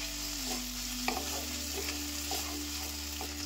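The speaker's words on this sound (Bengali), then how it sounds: "আদা কাঁচা লঙ্কা দিয়ে 2 মিনিট কষিয়ে নেবার পরে" Ginger paste and green chili being sautéed with chopped tomato in a pan for veg dal, a steady close sizzle with occasional stirring scrapes, no voices.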